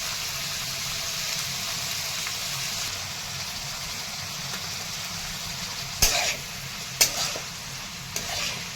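Cluster beans and chillies fry in oil, a steady close sizzle with stirring, then sharp spatula scrapes and clanks against the pan near the end.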